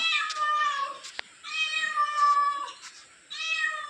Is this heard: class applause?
no